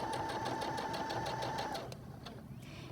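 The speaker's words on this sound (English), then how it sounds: "I'm going to step on the foot control again, and the needle will stop in the up position again." A Singer 6805C sewing machine runs steadily under foot-control power with a close, even mechanical whir, then stops near the two-second mark, leaving only faint residual noise.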